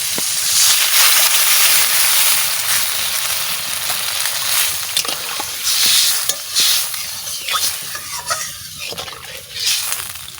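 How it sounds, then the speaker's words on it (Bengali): Water splashed into a hot pan of small round new potatoes cooking for dum aloo gives a loud, steady steam hiss that fills the whole stretch and flares in short surges, with no one talking. "এবারে জল দিয়ে দিচ্ছি"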